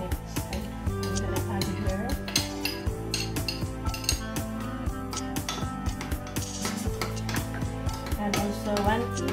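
A utensil stirs garlic and other ingredients together in a bowl, making quick, repeated metallic clinks and scrapes in an uneven rhythm, close and fairly quiet.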